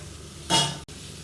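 Oil poured into a hot pan on a stove, making one short burst of sizzle that fades quickly, heard close and alone.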